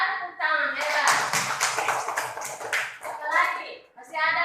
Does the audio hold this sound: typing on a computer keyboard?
no